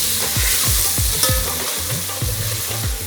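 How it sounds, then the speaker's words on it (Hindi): Onions fry in a pan with ginger garlic paste, a steady loud sizzle broken by repeated scraping stirs of the spoon, close up and without talk. "अब इसके अंदर जाएगा अदरक और लहसुन का पेस्ट 3 टीस्पून भर के। इसे भी फ्राई कर लेते हैं।"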